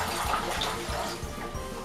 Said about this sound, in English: you can see all that dirty water coming out